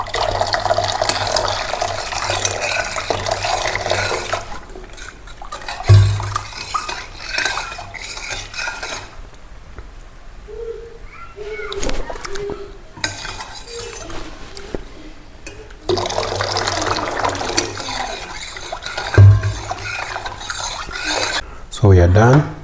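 Chapati dough is mixed by hand in a bowl, close clinking, scraping and stirring sounds in irregular bursts with wet squelches and quieter gaps between.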